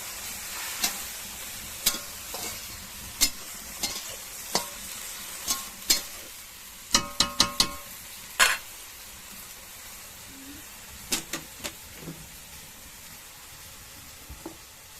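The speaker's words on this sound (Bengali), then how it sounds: "এবারে নাড়াচাড়া শুরু করলাম।" Leafy greens with tamarind flowers being stirred in a pan, giving a series of sharp scraping clacks over a faint sizzle, spaced at first and then bunched in a quick cluster.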